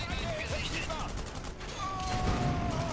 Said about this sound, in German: Du schießt jetzt den Mech ab.